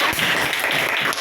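Schoolchildren in a classroom burst into a short round of clapping at their teacher's prompt, a dense, lively rattle of small hands lasting about a second.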